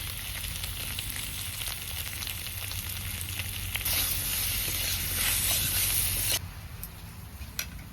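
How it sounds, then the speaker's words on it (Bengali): Taro (kochu mukhi) fries in a pan with salt and turmeric, giving a steady close sizzle and crackle that swells to a louder, brighter hiss for a few seconds before settling back. "হলুদ লবণ দিয়েও কচুটা ভালো সুন্দর করে ভেজে নিয়েছি"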